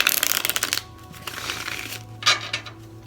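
Tarot cards are shuffled close by in quick riffling bursts, pausing between rounds, with soft papery slaps and flutters.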